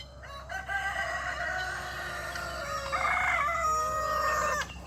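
Free-range backyard chickens, among them a rooster crowing in a long drawn call with clucking fowl close by, nearly continuous over a farm homestead background, no speech.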